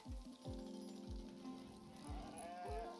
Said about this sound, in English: Sheep and some llamas, I see.